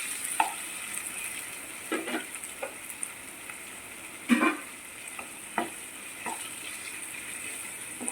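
Chicken pieces frying in oil for homemade chicken pasta, with a steady broadband sizzle and intermittent scraping knocks of a spoon stirring the pan at irregular intervals, close and with no voice.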